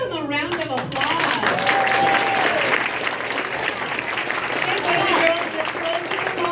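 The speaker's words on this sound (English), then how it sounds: "Parents, let's give them a round of applause." A school audience of parents claps and applauds for first graders in dense, sustained applause, with cheering and voices mixed in throughout.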